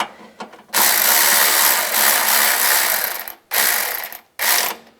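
A power tool ratchets bolts tight while a hood release handle is replaced on a 2006-2011 Cadillac DTS. It sounds loud and close, with a long burst followed by two shorter bursts separated by brief pauses.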